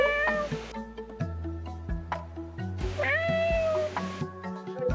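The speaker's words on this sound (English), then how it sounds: "Oh, Kitty, I can hear Kitty." A cat meows several times in short, clear calls, close and fairly quiet, with a low steady hum underneath and no talking.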